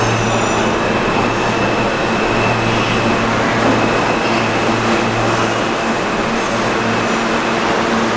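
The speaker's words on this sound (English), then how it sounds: "now I'm on the subway on my way to work" A New York City subway train rides along with a steady, loud rumble and hum of wheels on track, continuous throughout with faint high squeal tones and no talking.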